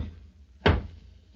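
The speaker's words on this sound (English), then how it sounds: "knock 3 times that we may know" Knock sound effect in a Halloween horror show: one dull, heavy thud against a wooden door or cupboard, close and distinct, in an otherwise quiet moment.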